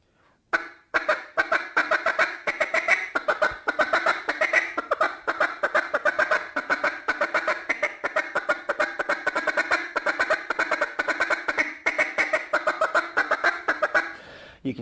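A duck call blown with back pressure, mimicking several ducks at once: fast, rough, overlapping quacks in continuous rhythmic bursts, loud and close, alone.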